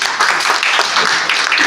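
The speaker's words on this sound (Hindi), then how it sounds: "तो प्लीज वेलकम अपने जोते ताली के साथ ऋषभ।" A stand-up comedy audience applauds to welcome a comedian, a dense, loud wash of many hands clapping throughout.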